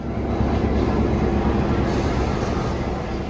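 A steady, loud rumble of a train rolling along the tracks in Santa Cruz, a continuous low roar with no voices.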